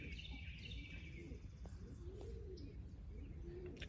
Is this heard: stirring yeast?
no